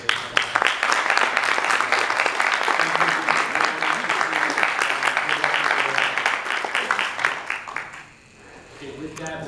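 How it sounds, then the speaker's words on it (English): Applause from an audience at a candidate forum in Orange County, California: steady dense clapping for several seconds that fades out at the end. "I'd like to give a round of applause to all of our candidates"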